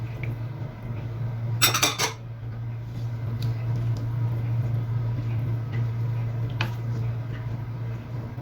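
A spoon mixes keema biryani ingredients in a pot, with a short burst of metallic clinking followed by faint scattered taps over a steady low kitchen hum.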